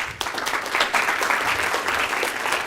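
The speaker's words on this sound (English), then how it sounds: "Give him a round of applause." Audience applause at a live show, with steady, dense clapping that continues throughout at a fairly loud, even level.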